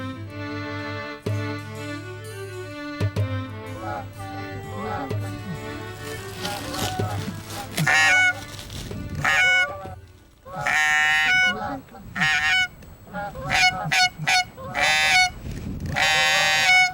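Wild geese honking in Labrador: a steady low hum gives way to loud, repeated honking calls in clustered bursts that grow denser and closer toward the end.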